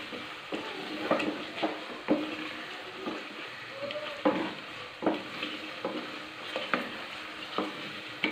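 Chopped capsicum cooking in masala in a pan, a soft continuous sizzle broken by regular spoon strokes and scrapes as it is stirred, fairly quiet and close, with no voices.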